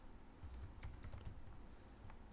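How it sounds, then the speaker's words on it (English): Someone types on a computer keyboard with quick, soft, irregular keystrokes, faint and close, with no voices over them. "I'm just typing gibberish"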